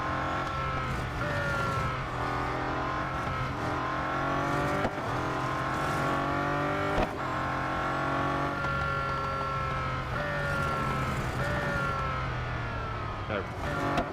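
Bugatti Centodieci engine in Real Racing 3 at Mount Panorama, a loud continuous high-revving whine with repeated rising gear sweeps and shifts, steady and close throughout.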